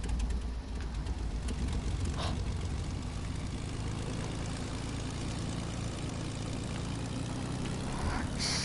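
Storming plane engine in a driving video game, a constant loud droning roar that holds steady throughout with a few brief clunks on top.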